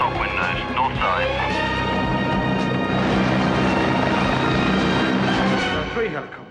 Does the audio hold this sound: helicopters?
yes